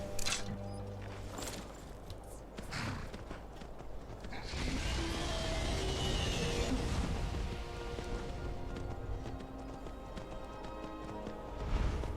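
Hooves clip-clop in a fast galloping rhythm, with a horse whinnying and whooshing movement over background music in the video game Skyrim.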